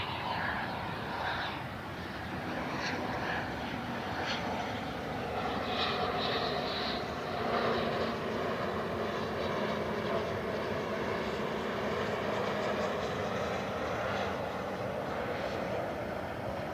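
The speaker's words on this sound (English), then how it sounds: "So as Frontier lifts off" A Frontier Airlines airliner taking off at Cleveland Hopkins airport, a loud, sustained jet engine roar that swells slightly and holds steady throughout. No talking is heard.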